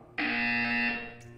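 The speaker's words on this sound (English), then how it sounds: "When you hear the buzzer, stare at the art." A single sustained electronic buzzer in the game Portal 2, starting abruptly and holding steady for about a second before fading out.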